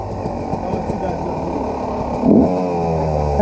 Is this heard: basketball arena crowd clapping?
no